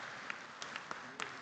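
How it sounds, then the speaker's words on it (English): Audience applause at the Africa Water Investment Summit in Cape Town, a brief, fairly faint patter of scattered clapping with a few sharper claps standing out. "A round of applause for UAE."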